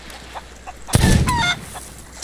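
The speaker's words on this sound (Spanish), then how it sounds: "pollito!" A chicken in the pirate video game Sea of Thieves lets out a loud, close burst of squawking clucks lasting about half a second, then quieter background sounds.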